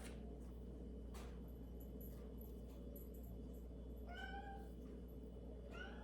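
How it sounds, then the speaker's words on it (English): A cat meows a few times in the background, short rising calls over a steady low hum and faint household noise. "You guys hear my kitty in the background"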